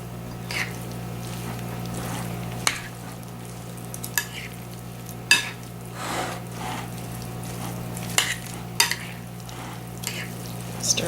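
Chicken and spaghetti being stirred with extra broth in a pot, a soft steady bubbling simmer with scattered spoon scrapes and light knocks against the pot, close and fairly quiet.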